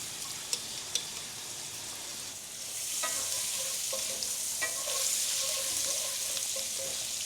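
Garlic sautéing in butter gives a soft, steady sizzle that swells after a few seconds, with light spoon taps against the pan and a couple of sharp clicks early on.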